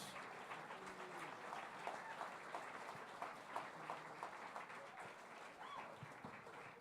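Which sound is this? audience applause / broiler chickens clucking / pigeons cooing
audience applause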